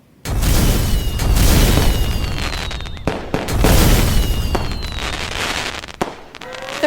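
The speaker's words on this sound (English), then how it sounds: "There was some kind of explosion near the pyrotechnics area." Stage pyrotechnics at a Christmas musical go off in a series of loud booms and crackling bursts, two big blasts with sharp pops and fizzing whistles trailing between and after them.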